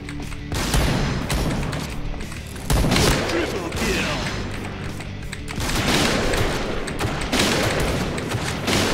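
Rapid gunfire from a new sniper rifle in a first-person shooter game, loud and continuous, with repeated shots and booms layered over dense game noise throughout.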